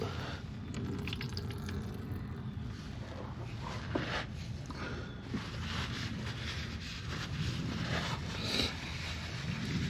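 Motor oil from a 2016 Honda Civic 2.0L running out of the oil pan drain, a steady close liquid trickle and splash into a container with faint drips over the whole stretch.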